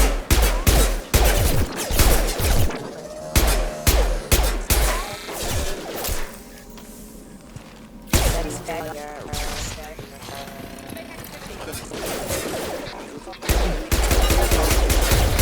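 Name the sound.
gunfire in video game Mass Effect 2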